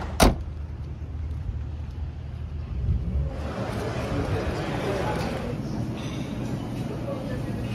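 Car driving slowly into a small town in Costa Rica, a steady low road and engine rumble heard from inside after a brief thump at the start, with people talking throughout.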